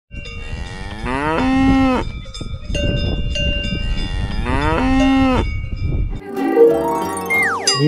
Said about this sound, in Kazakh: Я, әрине, бұл сиыр.